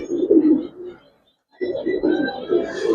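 Giribaz pigeons coo close by in low, throaty bursts, a first run of cooing broken by a short silent gap before a second, steadier stretch.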